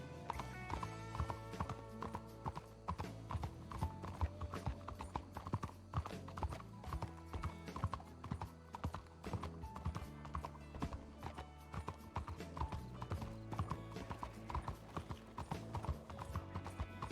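Horse hooves in Red Dead Redemption 2, a steady run of clip-clop hoofbeats with mechanical clinks of tack, moderately close, with a brief whinny and a little talk over it.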